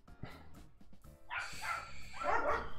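Dogs, one of them a new puppy, bark in the background of a quiet room, a burst of several sharp barks and yips growing louder over the last second and a half after a brief lull.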